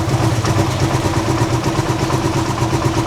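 A tuk-tuk engine idles steadily with a low, even putter and light rattle, constant and close throughout with no change in speed.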